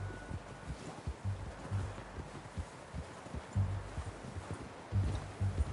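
Soft, steady clip-clop of horse hooves in the video game Red Dead Redemption 2, an even trotting rhythm, low and muffled, with faint background ambience and no talking.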